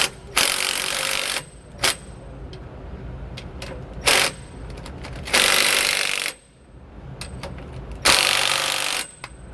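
A ratchet tightens bolts on the steering stabilizer of a 2022 Renegade RV, in three long bursts of fast, close clicking separated by short pauses and a few isolated clicks.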